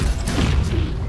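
An explosion in the video game Baldur's Gate 3, a brief loud rumbling boom with a heavy low-end roar and crackling debris, filling the whole moment without pause.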